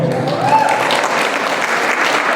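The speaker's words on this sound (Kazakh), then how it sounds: "Ағайындегі шапалақ мынау" Wedding guests at a Kazakh bride's farewell celebration applaud loudly, dense clapping that carries evenly throughout with a brief voice near the start.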